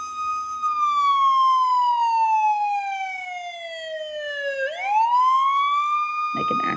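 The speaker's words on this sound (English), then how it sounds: "Then there's this siren." A 2023 Hess toy police truck sounds its electronic siren, one long loud wail that falls slowly in pitch and then sweeps back up, close and alone with no talking over it.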